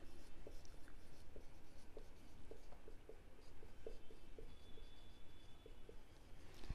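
A pen writes an accounting entry by hand during an accountancy lesson, steady scratchy strokes continuing throughout at close range, with no talking.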